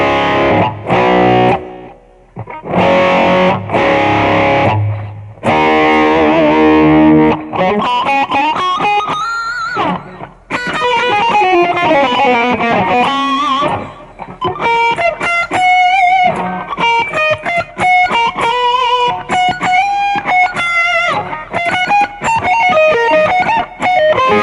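Electric guitar played through a BOSS Metal Zone pedal, heavily distorted, loud and close: opening chords give way to fast noodling runs and sustained bends, with no talking.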